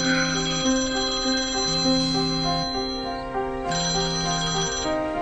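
A phone ringtone plays a repeating melodic pattern over and over without stopping, steady and clear with no voices.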